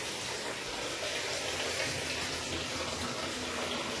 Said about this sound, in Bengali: এখন বাথরুমে গরম জল ভরছি, কলটা খুলে দিয়ে এসছি।